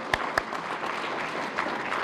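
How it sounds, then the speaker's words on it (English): An audience at a chamber of commerce annual meeting applauds corporate sponsors, with steady, moderate clapping from a sizeable crowd after a couple of sharp opening claps. "Let's give them some applause."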